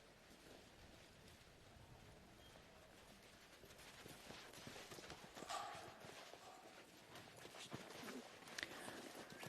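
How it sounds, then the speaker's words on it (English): Horse hooves clip-clop in the dirt of a campdraft arena, a brisk run of uneven beats from a little horse that rises toward the end over faint background noise. "Yavin Smooth Spin, the little horse that he rides here this afternoon"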